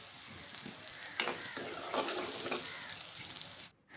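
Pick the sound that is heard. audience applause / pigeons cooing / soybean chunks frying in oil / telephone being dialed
soybean chunks frying in oil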